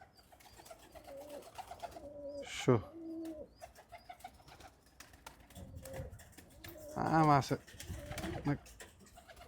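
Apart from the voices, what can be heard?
pigeons released from the loft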